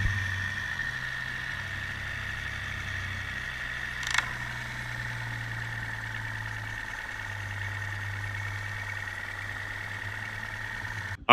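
A 9.9 hp kicker outboard motor heard from underwater at about 95 feet deep, a steady low drone with a faint whine above it, broken by a brief sharp clunk and a shift in tone as it goes in and out of gear.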